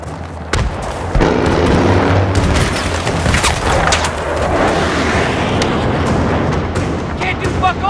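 Booming blasts and roaring rumble from an attacking jet in Battlefield 3 fill the scene, loud and sustained with crackling bursts, while soldiers' voices shout over the din.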